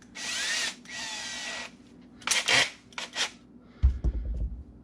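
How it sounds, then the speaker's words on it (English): A power drill whirs in two short bursts drilling a small pilot hole in a Collings C100 Deluxe guitar for a pickup install, followed by a couple of higher whines and a low thump, with no talking. "I'm going to start with a small pilot drill here"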